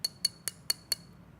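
An obsidian glass scrying mirror clinks five times in an even, quick rhythm, each tap a bright, sharp ring that fades fast, close and clear with no talking.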